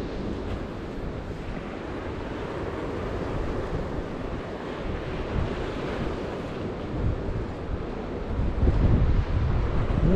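Sea surf at Scarborough North Bay under a heavy swell, a constant broad wash of waves mixed with wind buffeting the microphone, swelling louder near the end.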